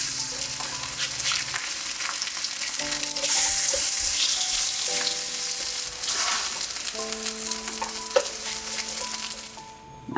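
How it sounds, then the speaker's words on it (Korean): Kimchi pancake batter sizzles steadily in an oiled frying pan, a continuous close crackle of hot oil with occasional stirring or spatula scrapes, no voices. "기름 두른 팬에 김치전 반죽을 올려주세요"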